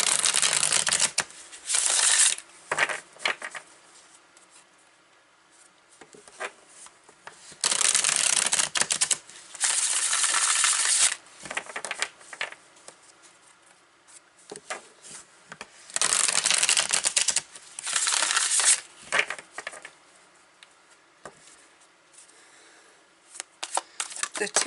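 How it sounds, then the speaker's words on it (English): Enchanted Dream Tarot cards being shuffled in bursts, crisp riffling rasps that come and go in several separate rounds with quieter pauses between them. "So, we're going to start pulling cards on these. I'm using the Enchanted Dream Tarot."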